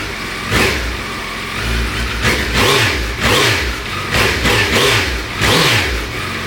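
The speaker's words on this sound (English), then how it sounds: "we're going to do a cold start on the stock exhaust" Suzuki Hayabusa on its stock exhaust fires from cold, a loud nearby idle broken by several sharp throttle blips that rise and fall in quick succession.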